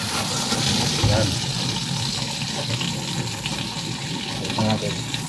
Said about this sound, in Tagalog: Punuin natin ng tubig.